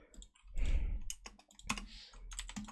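Close, rapid clicking of a computer keyboard as someone types in short bursts, crisp key taps and a thumping press or two, with no talking.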